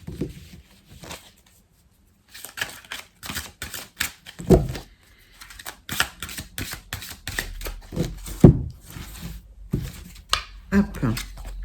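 Oracle cards from the French deck 'Dis-moi que tu m'aimes' are handled and drawn, producing close, crisp clicks and flicks scattered throughout, with a person talking over most of it.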